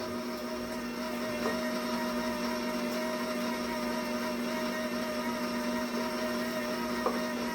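An electric mixer runs steadily, churning banana bread batter in a continuous motor hum with a few faint clinks, and no one speaks over it.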